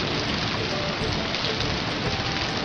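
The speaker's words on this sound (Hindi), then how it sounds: "It means a very loud and noisy rainstorm." Heavy, noisy rainstorm with dense, continuous broadband rain pouring steadily and loudly throughout, with no pauses and no voices.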